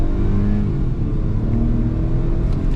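Hyundai Venue accelerating toward 60 km/h ahead of a braking test, a steady engine drone with road rumble heard from inside the car, rising slightly in pitch, no talk.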